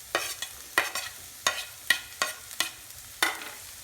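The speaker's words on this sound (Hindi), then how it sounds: "Again stir fry for some time till it gets half cooked" Capsicum and corn stir-fried on high flame, with about eight sharp scraping strokes of a spatula against the pan over a soft sizzle, evenly spaced and close, with no voices.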